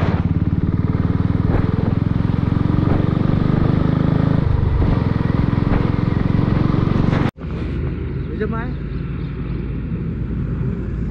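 A motorcycle on the highway from Tirupati to Chennai drones with a steady engine and wind roar throughout, cutting out briefly for a moment before the ride noise resumes, a bit thinner, with no talking.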